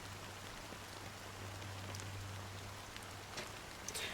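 Black rain falls as a fine, steady drizzle in the video game Honkai: Star Rail, a soft, constant hiss with faint scattered drops and a low hum underneath.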